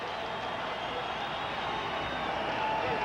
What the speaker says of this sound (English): Crowd alive.